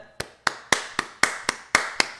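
Eight sharp hand claps in a steady, slightly uneven rhythm, close and crisp, with no voices.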